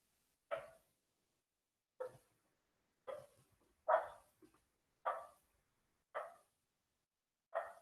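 A dog barks seven times in a steady series, each single sharp bark spaced about a second apart and standing clear against a quiet background.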